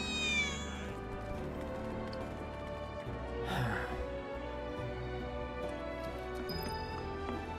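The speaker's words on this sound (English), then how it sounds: "I think that's the second cat." A cat in the video game Final Fantasy 7 Remake meows a couple of times amid steady game music and ambience, the cries moderately loud, with no speech.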